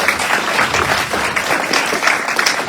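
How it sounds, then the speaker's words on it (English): An audience applauds steadily, a dense wash of many hands clapping together at a loud, even level throughout, with no pause or build. "So give him another round of applause."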